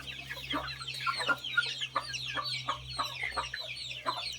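Several chickens cluck and squawk continuously, overlapping calls close by in a busy flock, with no talking.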